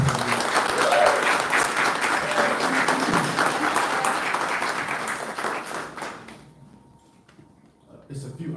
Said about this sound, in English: give a round of applause for our township